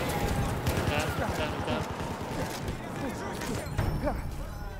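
Horse galloping in the Battlefield 1 video game, rapid rhythmic hoofbeats pounding close by amid battle noise, with players talking over the action.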